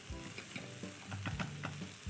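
Egg yolk sabayon is whisked in a bowl set over a pot of boiling water, with steady clinking and scraping strokes over a continuous bubbling hiss, close up and without talk.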